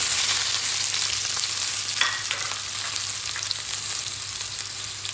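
Onion, tomato and garlic frying in oil in a wok make a continuous, even sizzle with soft stirring scrapes, close and steady throughout with no talking.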